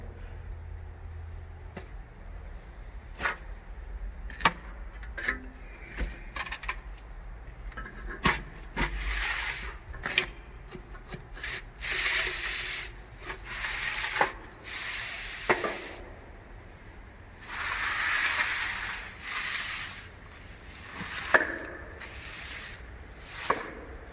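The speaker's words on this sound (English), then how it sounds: "I'm going to grab my hand trowel, just go up that edge, get it nice and smooth" A hand trowel smooths the edge of fresh concrete after a power trowel pass, giving intermittent scraping and hissing strokes in close, uneven bursts over quiet site background.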